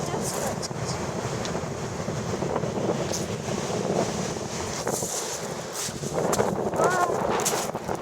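Gusty wind buffeting the microphone on a beach in Turkey, with waves washing in underneath and a voice speaking over the blustery roar.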